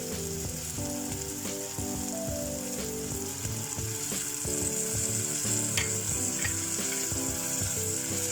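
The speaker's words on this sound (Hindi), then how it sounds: "अब मसाले को अच्छे से फ्राई करना है।" Spice masala with yogurt fries in a pan for an egg and spinach curry, giving a steady, close sizzle with occasional stirring scrapes over continuous tonal background music.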